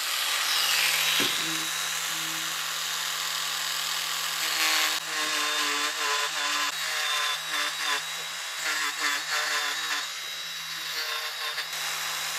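Small power tool cutting a groove into a swimbait lure, a loud high whirring buzz held steady for over twelve seconds, with the pitch wavering as the bit bites into the material.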